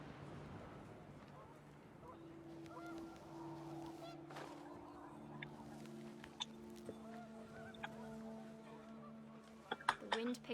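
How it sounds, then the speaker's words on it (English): Panicked geese honk in a game world with wind blowing, several calls overlapping at moderate distance over steady low noise, growing busier and sharper toward the end. "The wind picked up and panicked geese appeared and quickly went."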